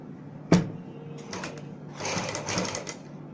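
A sewing machine stitches the hem of palazzo pants, with a sharp click and then short bursts of needle whirring and clatter, close and fairly quiet.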